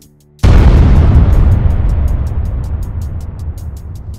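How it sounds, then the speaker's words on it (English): A massive underwater explosion, tied to the Kursk submarine disaster, hits with a sudden loud boom out of near silence, then rumbles and slowly decays over several seconds. "2 minutes and 15 seconds after the blast, another explosion, 250 times larger than the first"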